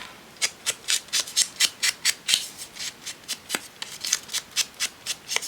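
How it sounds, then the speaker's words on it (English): Scissors snip steadily through paper, with rapid, rhythmic close cuts repeating over several seconds and no talking. "Snip that out."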